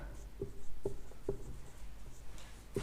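Chalk or marker strokes on a board during a maths lesson, a few short taps and scratches spaced about half a second apart, faint under a quiet room background.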